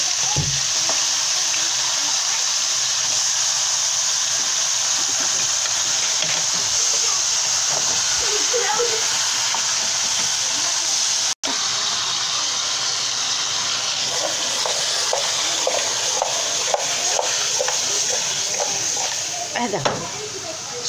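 Chicken sizzles and fries in a pot while being stirred and sautéed, a steady bright hiss with occasional scraping and spattering, a voice talking quietly over it for much of the time.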